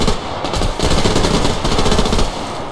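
Loud, close machine gun fire from the shooter game Survarium, rapid continuous bursts with brief gaps, filling the whole moment without talk.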